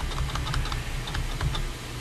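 Steady typing on a computer keyboard while entering a program search in Ubuntu 16.04, a quick run of light key clicks over a constant low hum, with no voices.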